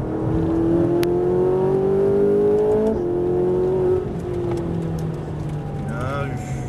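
Ferrari 458 Italia on a track, its engine note rising steadily under acceleration with a brief dip at a gear change, loud and sustained throughout.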